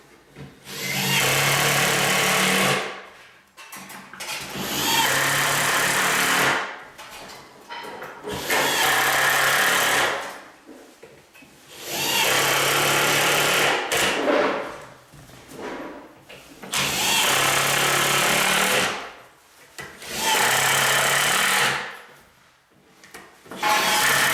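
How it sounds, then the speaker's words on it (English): An impact gun driving screws into a ready-to-assemble pantry cabinet, six long loud bursts of whirring and hammering separated by short pauses, close up with no talk. "Go ahead, use the impact gun. And tie up the screws."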